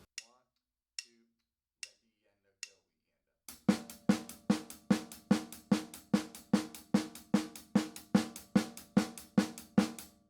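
A drum kit plays four sparse hits first, then a steady, fast stream of 16th notes alternating between hi-hat and snare at an even, unaccented volume, close and alone.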